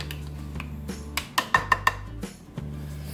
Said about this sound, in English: I'm going to scrape out all that yumminess out of that pan.